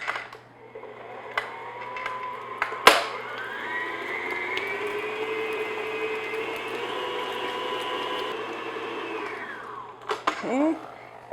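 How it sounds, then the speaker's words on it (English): Electric mixer beating butter on low speed for a Victoria sponge cake batter, a steady whirring motor hum that runs for several seconds after a sharp knock, then stops, with clinks around it. "what I'm going to do is just beat this on low speed just until that butter's nice and smooth"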